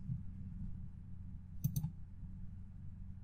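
A pair of quick, crisp mouse clicks lands close together in the middle, faint against a low steady room hum.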